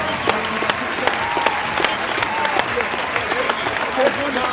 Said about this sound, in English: I'm gonna applaud for you.